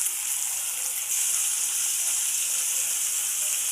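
Oil sizzling steadily in a pan as curry leaves go into it for a tomato roti pachadi, a loud, continuous frying hiss with no voices.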